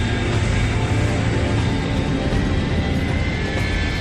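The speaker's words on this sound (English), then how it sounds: "it was the first Vulcan starting." Jet engines of an Avro Vulcan bomber spooling up at the start of a Black Buck raid during the Falklands conflict, a loud, steady, broadband roar that stays constant throughout with no voices.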